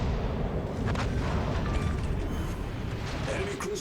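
Naval guns firing shells in World of Warships Legends, a continuous deep booming rumble of heavy gunfire and distant impacts, loud and sustained throughout.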